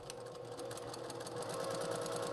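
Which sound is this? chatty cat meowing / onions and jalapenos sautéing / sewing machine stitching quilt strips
sewing machine stitching quilt strips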